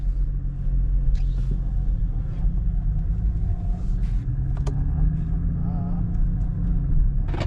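A BMW 335i F30 on a short test drive after a charge pipe repair, its engine rumbling steadily and close at low, moderate revs, with road noise throughout and no sharp revving.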